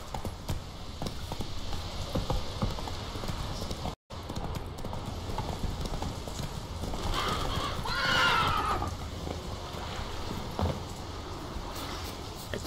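Horse in the video game The Witcher 3 neighing loudly mid-clip amid hoof clip-clops and game ambience, with a brief dropout near the start.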